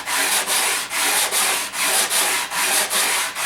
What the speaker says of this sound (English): I'm going to take another sanding block,